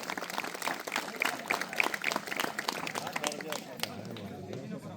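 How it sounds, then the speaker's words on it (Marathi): A crowd claps and cheers for the players at a kabaddi final match in Dapoli, Chiplun, with sharp overlapping claps under voices and background commotion. "खेळाडूसाठी एकदा जोरदार टाळ्या झाल्या पाहिजे."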